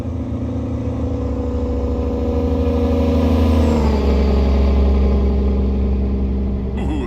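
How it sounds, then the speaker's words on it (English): A Peterbilt-style Pizzster 389 truck with a Cummins ISX engine in American Truck Simulator drones loudly at steady revs, then its Jake brake kicks in with a harsh, rapid-fire bark that carries on to the end; no voices. "Ooh, that Jake sounds nasty."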